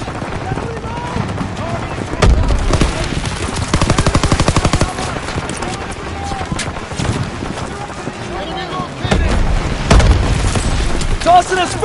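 Grenades explode in a WW2 video game battle: heavy booming blasts land twice amid rapid gunfire, loud and close, with voices shouting over the din.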